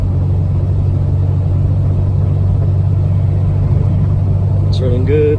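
A car with a swapped-in 3.9L engine runs while driving in third or fourth gear, a steady loud low engine drone and road rumble throughout, with a brief voice near the end.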